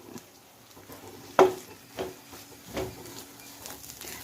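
Grated coconut and curry leaves fry over a low flame in a pan for kappa biryani, giving a soft, faint sizzle broken by a few scraping stirs of a spoon against the pan.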